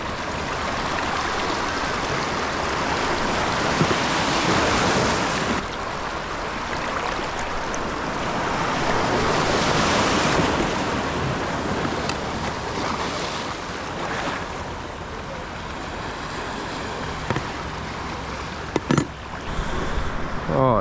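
Ocean waves and churning surf at a Perth shoreline during abalone gathering, a steady loud wash of moving water with wind buffeting the microphone throughout, swelling and receding without pause.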